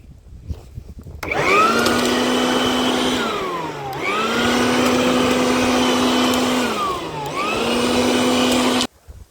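A Shark leaf vacuum sucks up autumn garden leaves with a loud, harsh motor whine that runs continuously for several seconds, dipping briefly in pitch twice as it works, then cuts off.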